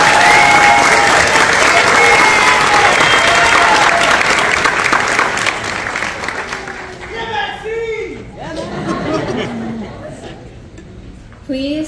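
Audience applause after honor society inductees are announced, a loud sustained burst of many hands clapping that fades after about six seconds, followed by voices talking and calling out.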